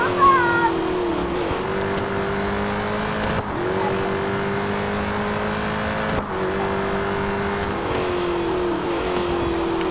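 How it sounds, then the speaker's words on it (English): A Ford Falcon FG X supercar from Real Racing 3 at full throttle, its engine droning loud and close with rising pitch between brief dips at gear changes. "Jump on the gas, go full throttle through the Parabolica here."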